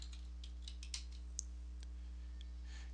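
Light, quick keystrokes tap on a computer keyboard, a short burst of soft clicks over a low background hum.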